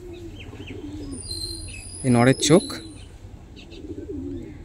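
Kasuri pigeons give a pair of short, loud coos close by, with someone talking before and after them.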